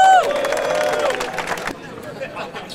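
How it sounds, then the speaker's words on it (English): Crowd cheering and clapping at a Gay Pride appreciation ceremony in Amsterdam, loud at first over a shouted voice, then settling into steadier, softer applause and murmuring. "Thank you for a warm applause to Pierre Karsten"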